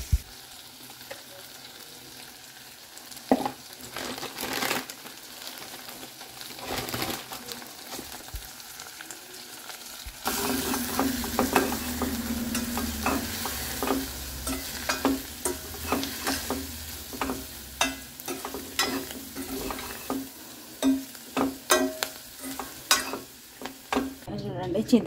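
Curry with tamarind juice simmering in a pan, a faint bubbling sizzle that grows louder midway, broken by repeated clinks and scrapes of a spoon stirring, close up with no talking.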